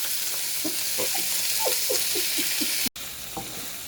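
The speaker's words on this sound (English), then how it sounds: "Alright, so the pepper is cooking." Peppers and onions cooking in a pot for jerk chicken pasta, a soft continuous sizzle with a run of quick light stirring scrapes, close by, briefly cut out near the end.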